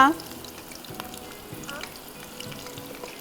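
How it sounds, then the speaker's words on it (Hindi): Onions frying in ghee, a faint steady sizzle with scattered crackles and light stirring, close but quiet, a brief voice at the start. "निकालने के बाद मैंने और मज़ीद घी डाला और मज़ीद प्याज डाल के मुझे इसको फ्राई करना है"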